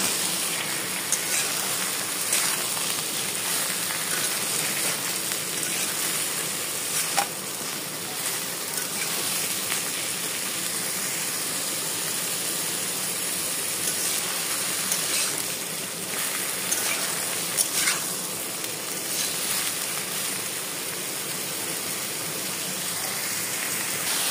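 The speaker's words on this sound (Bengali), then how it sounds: "ঝিঙেগুলোকে হালকা করে ভেজে নিয়ে" Ridge gourd pieces frying lightly in hot oil, a steady dense sizzle that holds evenly throughout with no speech over it.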